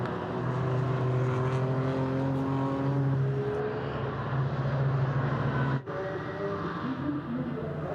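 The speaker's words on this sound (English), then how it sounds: "through the fast section of the Grand Prix circuit goes the 187 BMW FK Performance Motorsport" The FK Performance Motorsport BMW, car number 187, races through the fast section of the Nürburgring Grand Prix circuit in an endurance event, its engine a sustained droning whine that holds steady, then drops off, then resumes over constant track noise.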